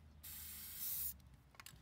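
Spray paint can spraying a short burst for hydro dipping scooters, a bright steady hiss lasting under a second, fairly close, followed by faint clicks and handling noises.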